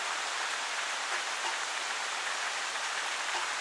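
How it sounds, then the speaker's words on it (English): Steady rain comes down hard on a car and the homestead around it, a constant dense hiss with no breaks or talking. "You can see the rain really coming down"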